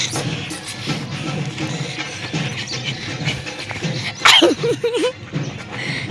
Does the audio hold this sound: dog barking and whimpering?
yes